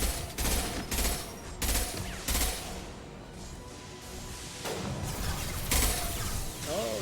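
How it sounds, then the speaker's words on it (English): Rapid bursts of gunfire in the video game Mass Effect 2 crack out in loud clusters, separated by short pauses, with a mechanical clatter running underneath. "Oh, he's shooting at me now."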